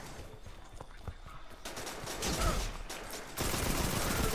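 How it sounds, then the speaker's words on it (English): Bursts of gunfire crackle from behind during Destiny 2 patrol combat, a busy run of rapid shots over game ambience with a brief shouted voice. "being shot at from behind as well, apparently"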